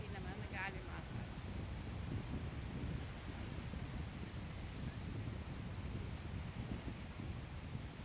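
Strong wind blusters by the sea where fishing boats sit beached, a steady roaring rush of gusts and surf filling the air, with a faint voice briefly heard.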